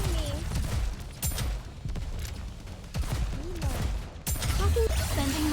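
Gunfire rings out in the video game Nikke: Goddess of Victory, a few heavy shotgun blasts among rapid bursts, layered over game music and effects.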